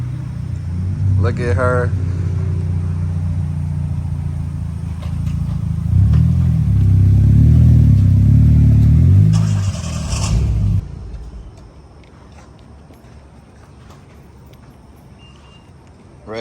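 A car pulls up with a deep, loud engine rumble that swells, then cuts off abruptly, leaving quiet background; a person speaks briefly over the engine.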